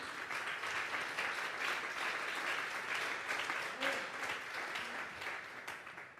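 A church congregation at a Sunday service claps steadily and loudly for about six seconds, a dense sustained wash of applause from many hands with a faint tonal sound briefly surfacing near the middle.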